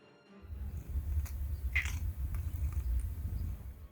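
A cat meows softly in the video game Forspoken, one short mew standing out over a steady low rumble of background game ambience.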